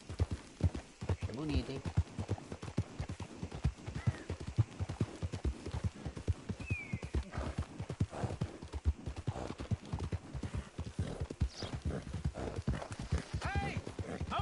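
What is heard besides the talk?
black horse hooves in video game Red Dead Redemption 2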